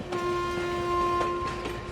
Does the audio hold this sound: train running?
yes